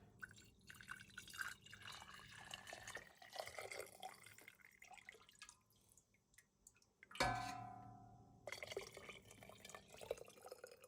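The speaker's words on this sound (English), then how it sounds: "Then we're just going to ladle it into the jar." Strained ham broth is ladled into a canning jar: soft liquid pours and drips at close range, with one sharper splash and clink midway, then gentle trickling resumes.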